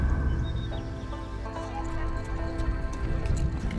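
Horse hooves clip-clop steadily in Assassin's Creed Shadows, set against a constant layer of ambient game music and background noise.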